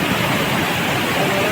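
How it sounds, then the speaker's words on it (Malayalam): The flooded Pullu river overflows its banks at Vilangad in Kozhikode during heavy monsoon rain, making a loud, unbroken rushing roar of water that fills the whole moment. "കോഴിക്കോട് വിലങ്ങാട് പുല്ലുവപ്പുഴ കരകവിഞ്ഞൊഴുകി"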